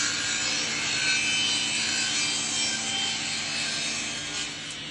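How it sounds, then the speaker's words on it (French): A hand saw blade works steadily through wood, producing a continuous close rasping cut with no pauses and no talk. "Bloque pas la lame, il faut la laisser travailler la lame"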